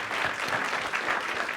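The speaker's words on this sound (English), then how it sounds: "Let's give our panelists a round of applause if we can." Brief burst of audience applause for panelists at a civil rights discussion in Cleveland, steady clapping from a seated crowd heard close and without talk for under two seconds.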